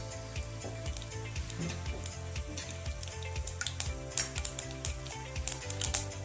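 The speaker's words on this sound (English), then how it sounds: "Let the oil get heat and add 1 spoon of mustard seeds." Mustard seeds sizzle and crackle in hot cooking oil, with steady frying hiss and scattered sharp pops that grow busier toward the end, close and fairly quiet, with no talking.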